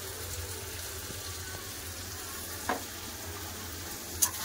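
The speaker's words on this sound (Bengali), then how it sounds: "মশলা তো মাংসটাকে ভালো করে কষে দিচ্ছি" Meat is sautéed with spices and salt in a pan for a potato and meat curry, giving a steady close sizzle and frying hiss throughout, with two brief scrapes of stirring.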